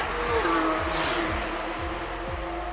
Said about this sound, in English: that drama that you get from the exhaust